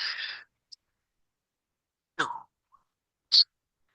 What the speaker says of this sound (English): Had to sneeze early.